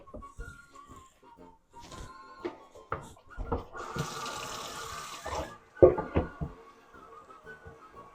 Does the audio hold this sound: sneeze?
no